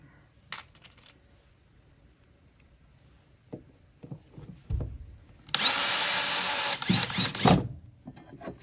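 A power drill drives a screw at an angle into bamboo flooring inside an RV, a short loud whirring burst of about two seconds after scattered taps and handling clicks, with a brief extra pulse at the end.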